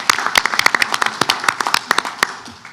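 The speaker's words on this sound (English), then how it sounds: "Let's give him a round of applause for that." A small group at a committee meeting claps briskly for a few seconds, individual hand claps distinct and uneven, tapering off toward the end.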